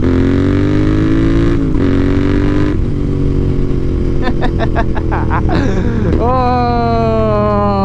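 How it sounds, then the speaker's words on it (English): Royal Enfield Interceptor 650 twin engine revving loudly and continuously, rising and falling in pitch with short throttle blips, with a voice talking over it. "I love giving the throttle a little bit of a blip."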